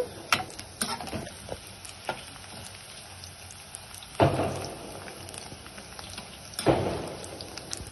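Onion pakoda frying in oil, a soft bubbling sizzle broken by scattered clicks and two louder stirring scrapes as the fritters are turned.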